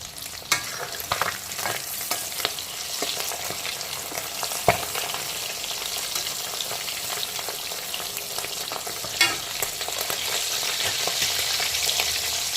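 Parshe fish fry in hot oil, turned over to cook the second side, with a continuous close, bright sizzle and occasional soft pops and utensil taps throughout.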